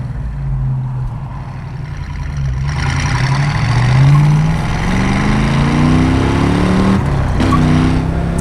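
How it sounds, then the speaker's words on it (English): A restored 1971 Chevrolet Camaro RS Z28 with a numbers-matching 350 and 4-speed accelerates hard, engine drone climbing through a shift into second gear with a brief tire chirp, loud and close throughout. "Little second gear chirp"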